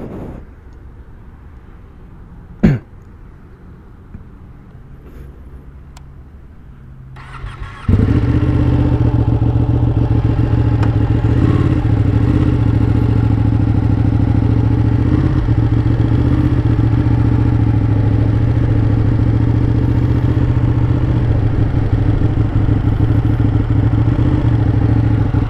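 A 2017 Ducati Panigale 959 motorcycle sits quietly at first with a single sharp click. Its engine then fires up and settles into a loud, continuous, close-up rumble that holds steady to the end.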